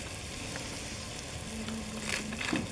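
Sizzling offal curry being stirred after vinegar goes in, a quiet, steady frying hiss close by with a few brief scrapes and bubbles near the end, no talking.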